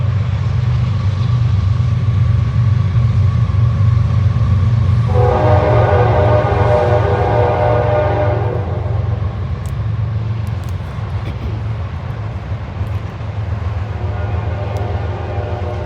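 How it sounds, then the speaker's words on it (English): A train rumbles past continuously at loud volume, a deep steady roar with rattling carriages and a brief higher tonal swell midway. "you can hear the train going by"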